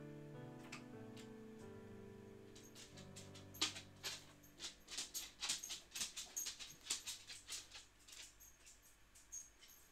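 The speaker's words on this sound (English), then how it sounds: "So my dog's just come back in." A dog comes back into a quiet room, its claws making soft, irregular tapping clicks that grow busier midway, over a faint steady tonal hum.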